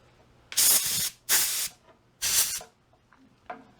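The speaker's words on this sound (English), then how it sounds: "Blow out all the metal filings." Compressed air blasts metal filings out of a coach gun barrel during a bead sight install, three loud, close hissing bursts of about half a second each, followed by two fainter short puffs.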